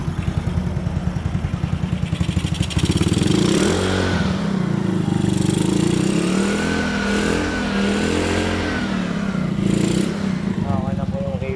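Keeway 125 motorcycle engine running after a top overhaul, idling with a steady close mechanical clatter, rising and falling through several revs, with a voice speaking over it.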